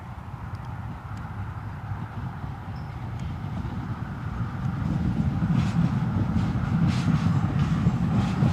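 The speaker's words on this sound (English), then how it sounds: "we've got a metro train on audio" Metro train passing near Newcastle Airport, a steady low rumbling roar that swells louder partway through and holds, heard alone with no talk.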